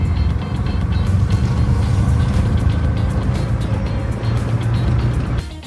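Steady engine drone while riding in a motorized tricycle through traffic near Tagbilaran port, Bohol, with a continuous low rumble, passing-vehicle noise and no talk.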